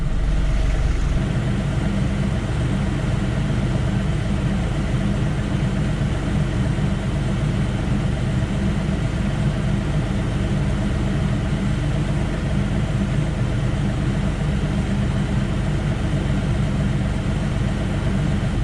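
A John Deere 3046R cab tractor's engine runs steadily and loudly, a constant low drone with no change in pace and no one talking.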